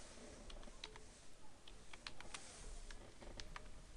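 Keys tap on a computer keyboard while text is typed into Photoshop, a quick irregular run of soft clicks close by over faint background hiss, with no voice.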